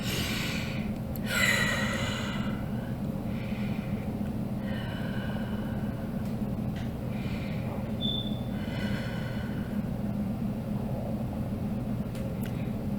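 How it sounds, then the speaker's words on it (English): Several slow, deep breaths taken during a guided breathing exercise, heard as soft inhales and exhales over a steady low room hum, with no talking. "take 3 deep breaths"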